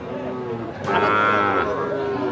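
A Sahiwal bull calf at a cattle market lets out a single low, drawn-out moo close by, rising in the middle and then tailing off over the crowd's background noise.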